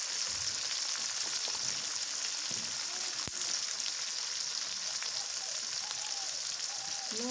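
Dried chilies fry with onion paste, cumin paste and garlic paste in hot oil, making a continuous, even hiss with one sharp click partway through.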